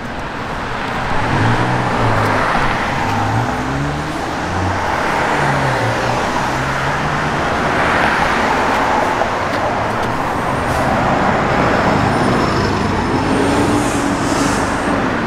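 A 1969 Dodge Super Bee's engine runs loud and close, a deep rumbling drone whose pitch swells and sags in slow waves as it revs, with no one talking.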